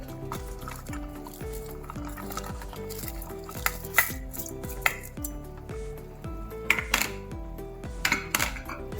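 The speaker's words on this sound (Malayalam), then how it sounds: "ഇതെല്ലാം കൂടി നമുക്ക് കുക്കറിലേക്ക് ഇടാം." Ingredients for a baby's high-protein lunch tipped into a pressure cooker holding a glass of water, with repeated close scrapes, stirring and clinks of a spoon against metal over steady background music.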